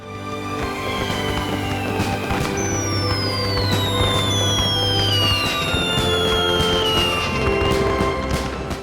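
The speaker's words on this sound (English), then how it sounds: "the city of Riverside had hosted a July 4th fireworks show each year from high atop Mount Rubidoux" July 4th fireworks bursting over Mount Rubidoux in Riverside, a dense continuous barrage of crackling pops and booms with whistling rockets rising and falling, loud and steady throughout with no talking.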